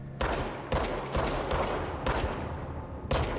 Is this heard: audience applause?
no